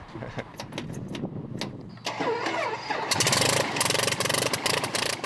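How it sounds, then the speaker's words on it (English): A historic engine at a car and plane museum cranks, then catches and settles into a loud, rapid, steady idle, close and dominating everything else. "The engine roars to life."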